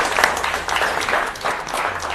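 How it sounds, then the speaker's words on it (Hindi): Enthusiastic applause from a crowd, a dense patter of many hands clapping steadily for a couple of seconds. "जोरदार तालियां"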